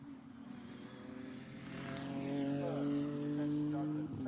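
A Ginetta GT race car rounds Coram at Snetterton circuit, its engine note rising and growing louder as it approaches, a sustained buzzing drone with shifting harmonics passing close by.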